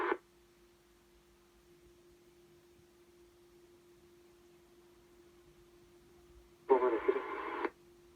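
A radio scanner tuned to air traffic control hums quietly for several seconds, then a brief, loud burst of crackly, squelched radio transmission comes through near the end.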